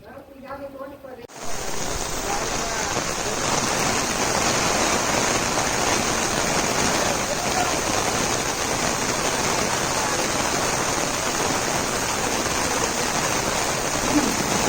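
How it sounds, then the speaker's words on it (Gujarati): Heavy monsoon rain with wind pours down in a loud, unbroken roar, steady and close throughout after a brief moment of other noise at the very start. "જોરદાર વરસાદ ચાલુ છે અત્યારે."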